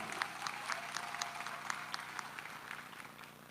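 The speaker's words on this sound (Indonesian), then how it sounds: "Kita berikan aplaus" Audience applause at a political declaration event backing a presidential ticket in Indonesia, a steady wash of clapping from a crowd with some sharper individual claps, fairly faint and distant, with no talk over it.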